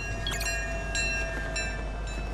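In the Fortnite video game, a train rolls past, making a rhythmic series of metallic clanks over a steady low rumble.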